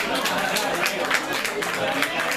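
An audience at an acoustic concert in The Cats house gives loud, dense applause that stays steady and continuous from start to finish.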